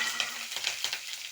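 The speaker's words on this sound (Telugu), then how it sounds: "ఆయిల్ హీటాక ఆవాలు, శనగపప్పు, ఉద్దిపప్పు, జీరా వేసేసుకోవాలి." Mustard seeds, chana dal, urad dal and cumin sizzle in hot oil, giving a steady, close crackle with small pops throughout and no voices.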